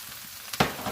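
Spring onions dropped into a hot pan for a pork belly stir fry, a brief burst of sizzling that swells suddenly and then settles.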